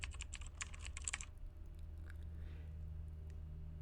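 A computer keyboard clatters as someone types in a Google Sheets spreadsheet, a quick, faint burst of keystrokes that stops after about a second and leaves a quiet background hum.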